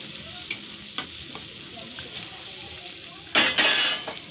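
Onion and ground spice paste frying in a pan, a steady close sizzle with light utensil taps and clinks, and a louder burst of hissing and stirring near the end.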